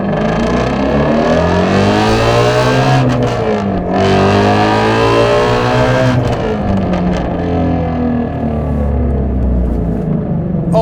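A 2017 Shelby GT350 pulls hard, its engine roaring loudly and rising in pitch through the revs, dropping briefly at a gear change near four seconds and another around six before climbing again, close and continuous with no talking.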